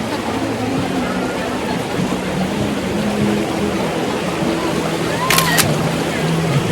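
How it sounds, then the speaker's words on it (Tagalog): Steady broadband rush of river water and waves at Balanac River, close and continuous, with faint voices talking underneath. "Lalakas yung alon."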